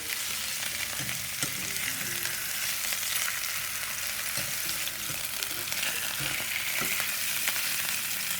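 A cheese-filled meat roulade is turned over in a hot pan and fries with a loud, steady, close sizzle, broken by a few soft knocks as it is moved. No talking.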